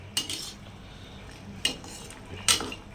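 A metal spatula scrapes and clatters against a pan while stirring chicken pirattal over a high flame, three quick stirring strokes spaced about a second apart over a faint background hiss.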